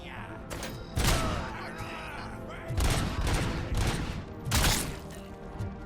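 Bursts of gunfire from the video game RoboCop: Rogue City, three heavy volleys of shots with thuds over a steady background of game noise.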